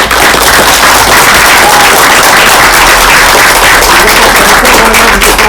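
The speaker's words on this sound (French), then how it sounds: "Vous pouvez les applaudir, les encourager." Audience applause at a children's primary-class school show fills the room as a dense, loud, steady crackle of many hands clapping, sustained without a break for several seconds.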